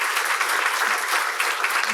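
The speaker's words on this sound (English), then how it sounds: "So please, audience, if you can give them a round of applause." An audience at a peace education panel event gives the panelists a brief, steady round of applause, a dense continuous patter of many hands with no talk over it.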